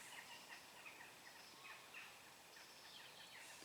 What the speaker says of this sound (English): You can hear one bird.